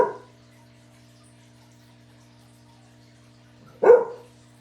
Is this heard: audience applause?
no